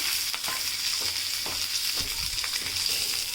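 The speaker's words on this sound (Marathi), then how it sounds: "मिरची भाजायला ठेवली ना की आपल्याला त्यामध्ये थोडं तेल घ्यायचं आहे" Green chillies and peanuts frying in a little oil, a steady close sizzle with occasional stirring scrapes and small pops.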